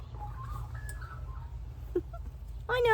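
A pet bird calls for food indoors, a few faint chirps and squeaks ending in a louder rising squawk close by, over a low steady hum.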